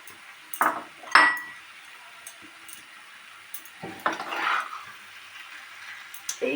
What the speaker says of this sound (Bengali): এইভাবে আস্তে আস্তে কষতে কষতে আলুগুলোর সঙ্গে মশলাগুলো মিক্সড হয়ে যাবে